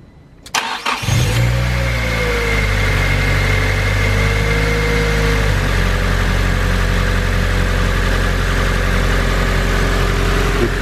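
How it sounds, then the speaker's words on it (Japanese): A naturally aspirated car engine on its stock turbo-spec computer cranks briefly, catches at once and settles into a loud, steady idle close by. "ちょっとエンジンかけて、"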